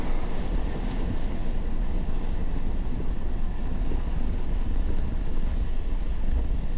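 An off-road vehicle pushes through a water crossing on an Ozarks overland trail, giving a steady, loud rush of water and engine noise that fills the whole stretch, with no speech.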